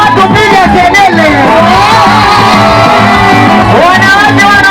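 A large crowd at a lively event roars and shouts back in answer to a call to make noise, loud and sustained throughout with whoops and a dense mass of voices.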